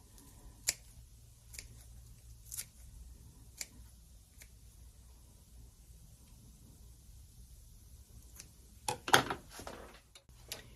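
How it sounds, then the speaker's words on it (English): Kitchen scissors snip through food while tempeh tacos are prepared, giving a few sharp, isolated cuts spread apart, then a quick close cluster of snips near the end over a quiet room. "And I will just chop those up here with my scissors."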